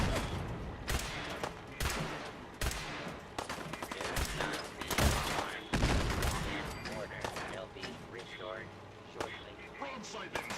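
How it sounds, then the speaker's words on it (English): Rapid gunfire and heavy blasts from a grenade launcher in Fallout 4, with repeated loud bursts and crackling shots filling the scene, overlapping bangs at close range, and voices speaking under the combat. "Someone has a grenade launcher."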